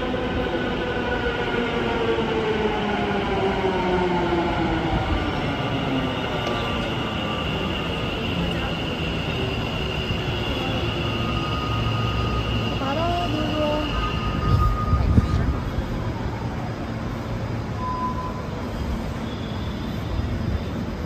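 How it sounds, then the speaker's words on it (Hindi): An Ahmedabad Metro train pulls into the station with a steady, close rumble and drawn-out wheel squeals, plus a few sharp clanks near the end as it slows. "तो गाइस अभी मेट्रो एक ही मिनट में आने वाली है, तो मैं आपको दिखाऊंगा मेट्रो कैसे आ रही है।"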